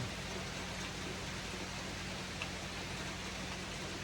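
Rain falls outside a mountain cabin, a steady, even hiss of drops on surfaces with a low hum beneath, constant and moderately quiet throughout, no voices.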